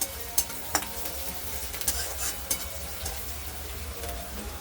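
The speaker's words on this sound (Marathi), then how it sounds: "कांदा छान लाल कलर येईपर्यंत भाजून घ्यायचा" Chopped onion frying in a pan until reddish brown, a soft continuous sizzle broken by periodic scraping and clinks of a spoon stirring against the pan, close and fairly quiet.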